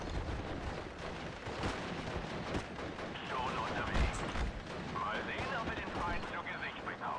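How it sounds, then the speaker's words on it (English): Mortar fire in the Steel Division: Normandy 44 video game, a steady din of distant gunfire and explosions mixed with battle noise, under a voice talking. "And we'll continue the mortar fire."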